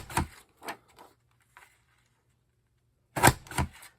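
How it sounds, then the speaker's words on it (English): A Creative Memories circle punch clicks sharply through the corners of a sheet of paper, several crisp snaps with pauses between, close and dry in a quiet room. "Punch on all 4 corners."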